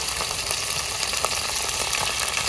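Ground spices with cumin paste, coriander powder, nut paste and sour yogurt fry together in a pan, giving a steady, dense sizzle that runs loud and even throughout with no voices.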